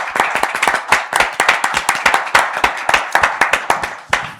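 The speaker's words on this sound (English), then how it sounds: "please join me with a big round of applause for these gentlemen here who makes things possible" A panel audience at a tech conference claps for the speakers in a round of applause, with sharp, distinct hand claps coming in quick, slightly uneven pulses from fairly close by, lasting about four seconds with no talk.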